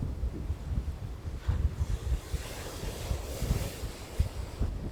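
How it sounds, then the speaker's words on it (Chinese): Large ocean waves roll in at the Izu seashore at dusk, a broad surging wash under gusty wind buffeting the microphone, loud and continuous with no talking. "但是海浪很大。"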